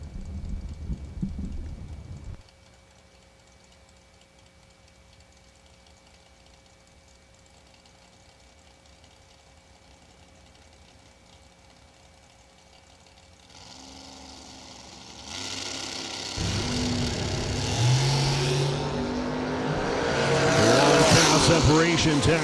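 Super Pro drag racing at a Port Charlotte, Florida strip, including an '87 Camaro: a long, quiet stretch of distant idling and track ambience, then engines roar up loudly in a hard launch that builds and stays strong to the end, with a voice announcing.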